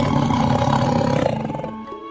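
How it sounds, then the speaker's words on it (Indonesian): A tiger gives a loud, angry roar in a forest as a drama sound effect, a long rumbling growl that fills the foreground and then fades. "Diselingi auman marah seekor macan gembong."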